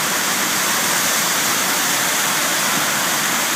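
Floodwater rushing down a sloping street in Kadıköy, Istanbul, toward the Kurbağalı stream, a loud, dense, unbroken roar of torrential water close by.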